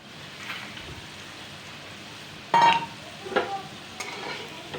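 Potatoes fry in a pan until red and crisp, giving a soft steady sizzle with a sudden louder crackling burst midway and a few scraping stirs after.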